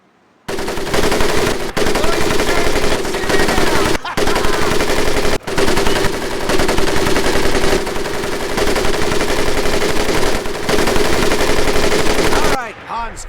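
Sustained machine gun fire from a World War II Pacific battle in Medal of Honor: Pacific Assault roars loud and close, a dense continuous rattle broken by a few split-second pauses, with faint voices underneath.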